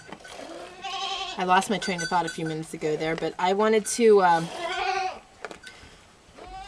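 Goats bleat repeatedly at a milking stand, their wavering calls mixed in with a person talking steadily nearby.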